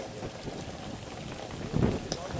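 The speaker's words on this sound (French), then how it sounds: "s'il y a un peu de vent comme ça avec un peu de pluie" Light rain falls with a little wind at an outdoor event, a steady close patter of drops and soft gusts throughout, with a brief louder rumble near the end.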